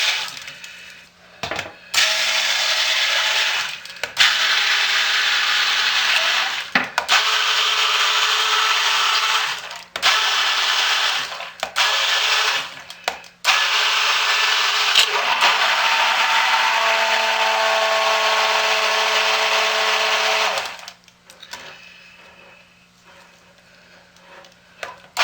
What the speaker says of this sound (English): So I might have to stick blend a while.